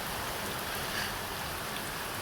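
Rain falls on a small gazebo roof in Silverhill, a dense, even hiss of drops pattering steadily and close by, with no other sounds.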